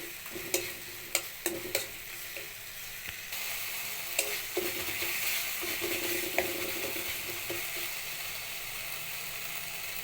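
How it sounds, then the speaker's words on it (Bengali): Tomato frying in a pan gives a continuous close sizzle, punctuated by a few sharp clicks and taps of stirring in the opening seconds, with no speech. "টমেটোটা দিয়ে অল্প ভেজে নিচ্ছি"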